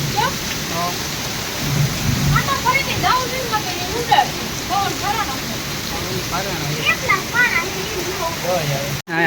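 Heavy rain pours down with gusting wind over farm fields in a downpour, a loud dense roar with low rumbles throughout, ending in an abrupt cutoff.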